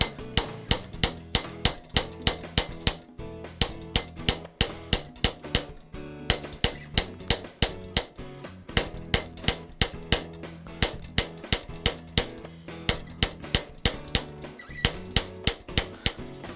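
Steady hammer blows ring against a metal bracelet held on a jeweler's forming stake, roughly two to three sharp metallic strikes per second in an even, continuous rhythm, close and clear with no talking.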